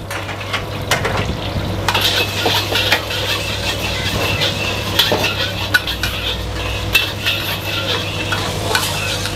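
Onion, ginger, garlic and shallots stir-fry in a pan with a loud, continuous sizzle, while a metal utensil clinks and scrapes against the pan in busy, irregular strokes.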